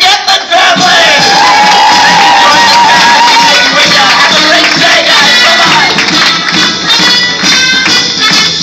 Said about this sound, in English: let's have one more big round of applause for the Gettler family!